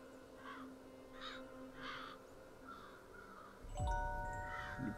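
Crows caw in the video game Child of Light, three or four hoarse calls evenly spaced and fairly faint, followed by a bright chime and a soft low swell.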